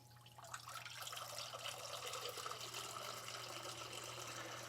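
Water from a pump pours steadily into a bait tank filter, a continuous splashing rush that stays close and fairly loud for the whole stretch, with a low steady hum beneath it and no talking.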